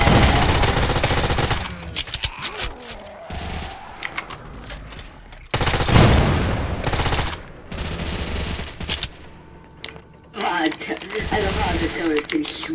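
Rapid automatic turret fire in the Roblox game Zombie Uprising crackles in dense bursts, loud and close, broken by short pauses, while players talk excitedly over the shooting.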